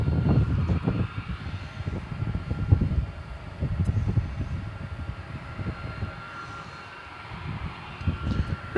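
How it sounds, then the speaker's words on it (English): An Airbus A300 airliner arrives at DFW Airport at night, a continuous low jet roar with rumble and wind buffeting, fairly loud and steady throughout. "Here comes that A300 we saw arriving from Orlando a few moments ago"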